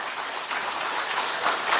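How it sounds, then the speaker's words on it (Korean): A church congregation claps to welcome the pastor at a Sunday service: dense, steady applause from many hands filling the room, with no voices over it. "박수로 우리 목사님 환영하기를 원합니다"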